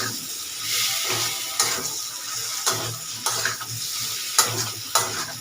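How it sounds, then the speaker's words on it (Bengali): Chicken pieces frying with spices in a pan over low heat, a steady close sizzle broken by repeated scraping stirs every second or so. "মশলার সাথে মাংসটা খুব ভালো করে কষাতে হবে, আস্তে আস্তে ধিমে আঁচে কষাতে হবে"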